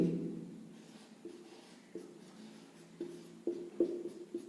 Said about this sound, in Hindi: हमारे पास जो शब्द हैं हम उसको भी लिखेंगे